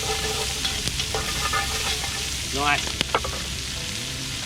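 Onions dropped into hot rendered shark fat sizzle and crackle steadily over a campfire by the ocean, with stirring scrapes and a brief spoken word over the frying.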